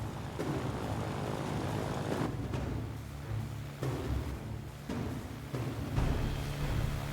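Propeller drone of Spitfire aircraft engines in Ground of Aces, a steady, fairly loud hum running through the whole stretch, with slight swells as the planes pass.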